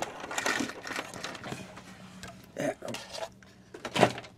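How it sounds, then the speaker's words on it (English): Plastic casing of a Panasonic RQ-309S shoebox cassette recorder being taken off, with several clattering knocks and scrapes and a sharper rattle near the end, under soft talk. "Let's remove the casing."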